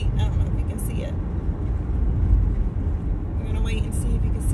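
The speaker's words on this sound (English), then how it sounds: "He's coming up in a white Mazda RX-8." A white Mazda RX-8 approaching on a road, a low steady engine and tyre rumble building slightly as it nears, with faint brief sounds over the noise.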